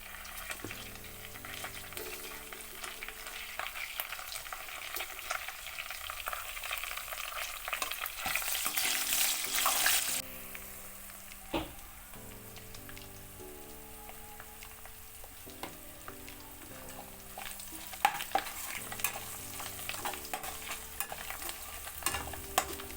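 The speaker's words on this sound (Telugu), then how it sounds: "కొద్దిగా ఫ్రై అయినిచ్చి దీంట్లో మనం కరివేపాకు యాడ్ చేసుకుందాము" Dry mango pieces sizzle and fry in a pan of tempering oil for mango pulihora, a steady close crackle with a brief louder hiss midway and occasional stirring clinks, no talk.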